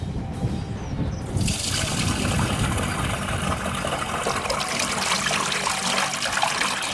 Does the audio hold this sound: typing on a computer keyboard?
no